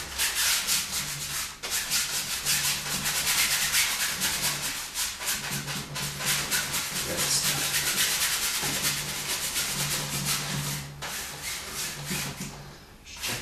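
Oil paint being rubbed into a painting surface for a waterfall picture, a close, steady scratchy rubbing in repeated back-and-forth strokes with brief pauses between passes, and no talking.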